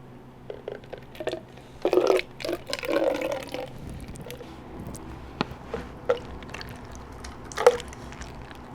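Water is poured over a face to test waterproof makeup, giving soft irregular splashes, drips and squishy trickles, close and fairly quiet, with no talking.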